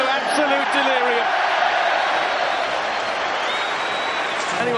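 The Old Trafford crowd roars in delirium after Michael Carrick's goal in a Manchester United versus Manchester City match, a dense sustained wall of cheering with a commentator speaking over it.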